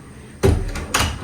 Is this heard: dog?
no